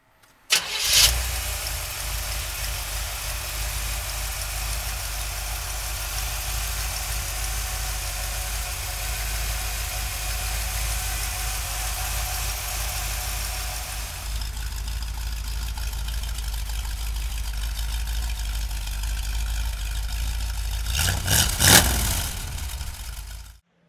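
Close by, a 1976 Chevrolet Corvette engine cranks and catches, then holds a steady low idle for most of the stretch before a short blip of revs near the end and a sudden cutoff.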